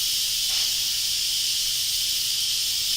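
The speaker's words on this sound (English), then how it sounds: "We're going to let that depressurize" A pressure cooker releases its steam in one continuous, loud hiss that stays steady from start to finish, with no one talking.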